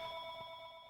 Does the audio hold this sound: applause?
no